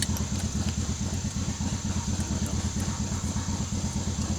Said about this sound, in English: Motorcycle or a tractor coming back.